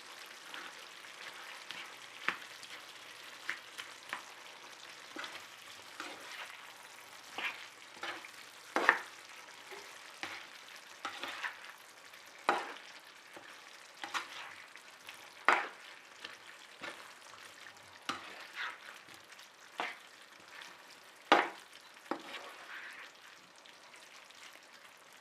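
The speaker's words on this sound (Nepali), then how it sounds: "म अब यो टमाटर राम्ररी गलेको छ अब टमाटर र यसले सबैलाई मिक्स" Tomatoes being stirred in a frying pan while cooking for cauliflower curry, giving a soft, continuous sizzle broken by irregular scraping taps of the utensil against the pan, close and fairly quiet with no talking.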